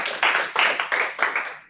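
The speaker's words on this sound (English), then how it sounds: "Big round of applause for" A small group at a live auction at a Martin Place hub gives a brief round of applause, with several quick, uneven bursts of clapping close by before it fades.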